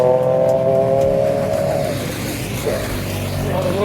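A group of about six or seven motorcycles roars past up close while the riders pull wheelies, their engines loud and continuous with shifting revving tones that dominate throughout.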